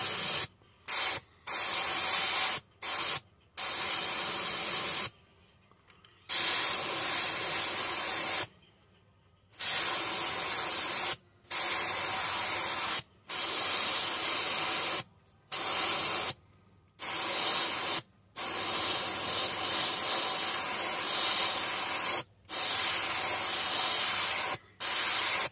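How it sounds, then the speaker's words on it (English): Repeated bursts of aerosol spray paint hissing onto a fishing lure, each a few seconds long, separated by short silent pauses. "we're just going to spray this right on his throat"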